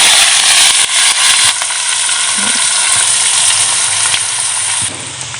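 Fennel seeds, onion and chilli fry in a pan over a wood fire with a loud, steady, hissing sizzle and occasional clatter from stirring, with no talk over it.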